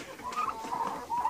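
Young turkey poults of a hybrid converter breed, about two months old, roaming free on a farm give soft, faint clucks and peeps in short bursts, with no talk over them.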